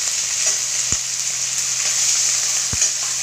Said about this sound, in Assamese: মাছখিনি ভাজি ল'বলৈ।